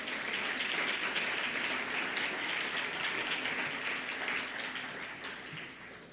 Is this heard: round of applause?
yes